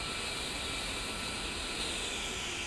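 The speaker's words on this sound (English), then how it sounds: "With both engines now running and powering the left and right AC generators" The twin jet engines of an A-10C idle in the DCS flight simulator, producing a steady, even whine with a broad hiss that holds constant throughout.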